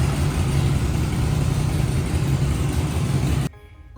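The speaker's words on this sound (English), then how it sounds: "Now he is going to start the bike and he will leave it." A Suzuki Hayabusa Gen 3 engine idles loud and close at its second service, a steady low throbbing rumble that stops abruptly near the end.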